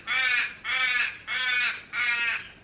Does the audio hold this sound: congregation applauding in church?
no